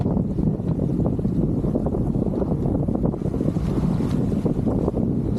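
Wind sweeps over a sailboat at sea on a solo round-the-world voyage, a loud, steady roaring rush with gusty buffeting against the microphone and a faint wash of water, no voices.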